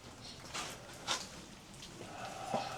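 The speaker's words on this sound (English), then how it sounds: "As you can see, it's a rainy mess out there." Rain falls steadily outside on a gloomy day in South Jersey, a soft, faint wash of patter with a few sharper drips and splashes standing out, with no talking.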